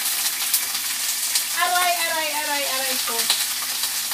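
Onions sauté in a pan for mung bean stew with coconut milk, a steady close sizzle and frying crackle running throughout, while someone speaks briefly over it.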